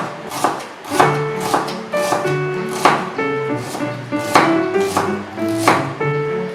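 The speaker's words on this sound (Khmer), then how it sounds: "ខ្ទឹមក្រហមយើងត្រូវហាន់ស្ដើងអញ្ចឹងបងប្អូន" Shallots sliced thinly with a knife on a cutting board for a steamed fish with sweet sauce dish, a steady run of crisp, evenly spaced chopping strokes, close and clear, with a faint tonal hum behind.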